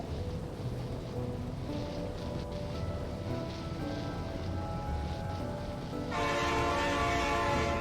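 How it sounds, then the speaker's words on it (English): Train sounds in Factorio, a steady rumbling roll with tonal horn-like harmonics that swell louder near the end, continuous and fairly close, no talk. "Yep, there's the train sounds."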